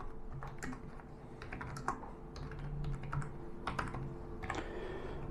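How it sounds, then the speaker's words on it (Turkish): Steady clicking of keys being typed on an Everest Piranha KM 7500 wireless computer keyboard, quick irregular taps up close and fairly quiet, with no talking. "Not defterine şöyle bir yazı yazmayı deneyelim."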